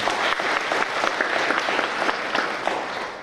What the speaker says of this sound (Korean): 목사님께 큰 박수 부탁드리겠습니다.